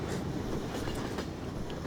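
Train rolling along rails on a train ride map in Garry's Mod, a steady, continuous rumble with faint rhythmic clatter throughout.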